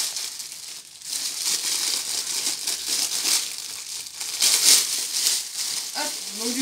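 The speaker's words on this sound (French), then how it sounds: "Dès que j'aurai réussi à le déballer." Over-packaged plastic wrapping from a Temu parcel is crinkled and torn open up close, a run of rustling, crackling bursts that swell and fade, with a brief murmur of voice near the end.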